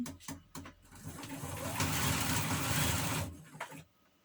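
A sewing machine stitches through jeans denim in a steady mechanical run of about two seconds, framed by short bursts and clicks of handling before and after, close and moderately loud with no talking.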